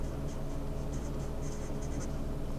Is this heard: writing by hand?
yes